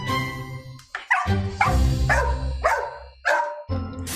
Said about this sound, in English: And then there was the barking